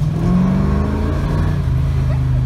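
A 1970 Ford Mustang Fastback with a 351 Cleveland V8 rumbles and revs up close, a deep, loud engine note that climbs and holds steady.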